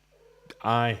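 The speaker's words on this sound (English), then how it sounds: "the cat has got an honorary whinge today" A pet cat gives a short whining meow indoors, starting with a faint thin cry and rising into one loud, drawn-out nasal wail near the microphone.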